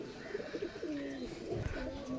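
Giribaz and Pakistani pigeons kept for sale coo softly and repeatedly, their low rolling calls set against a steady background murmur with no clear talk.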